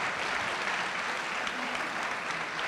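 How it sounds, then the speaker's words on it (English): Steady, dense applause from a conference audience at an Arabian horse racing gathering in Rome, a continuous moderately loud wash of many hands clapping with no talk over it. "Come on, everybody, let's have a big round of applause."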